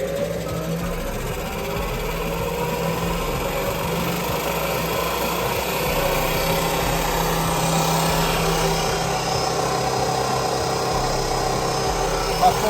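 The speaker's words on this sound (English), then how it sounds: "Forward and rev her up." The engine of a 1976 Chris Craft 36-foot Commander boat runs in forward gear during a Paragon P44R marine transmission overhaul, giving a steady, loud mechanical drone that rises slightly partway through, with speech under it.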